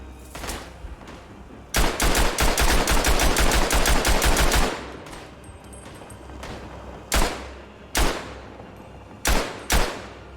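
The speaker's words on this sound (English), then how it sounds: "Ooh, machine gun." Machine gun fire in the Tannenberg video game: a loud sustained automatic burst of rapid rounds, then scattered single heavy shots spaced apart, with no talking.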